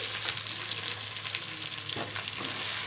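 Mint is stirred into onions frying in a pan, a steady close sizzle with occasional scraping and clinking stir sounds over nearly three seconds, no voice over it.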